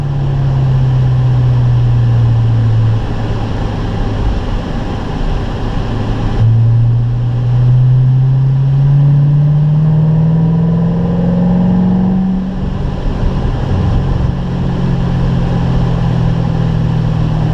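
A Corvette driven hard around the Spring Mountain road course at a Ron Fellows driving school: a loud, close engine note rising and falling through gear changes and sustained pulls, with no talking.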